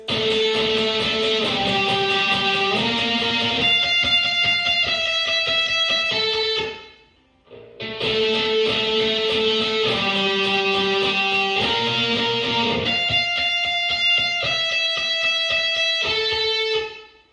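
A sustained, melodic electric guitar lead plays a flowing phrase, pauses briefly, then repeats it, loud and clear without any talking.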